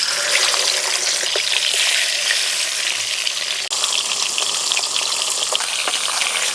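Katla fish head rubbed with salt and turmeric frying in smoking-hot oil, a loud, dense, continuous sizzle close up, briefly dipping for a moment midway before resuming.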